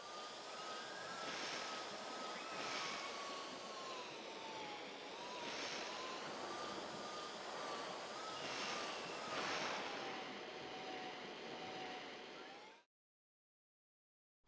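A steady, droning hovercraft engine in the video game Diddy Kong Racing, its whining pitch gently rising and falling as the craft maneuvers, then cutting off abruptly near the end.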